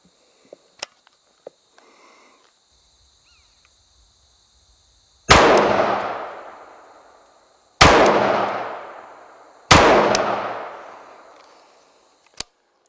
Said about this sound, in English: I was not taking a lot of time to fire off those shots